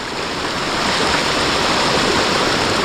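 A village stream flowing over a crossing point, a loud, steady rushing of water heard close by without a break.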